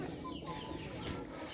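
A fighting rooster clucks softly in short, faint calls amid steady outdoor background noise, close by but low in level.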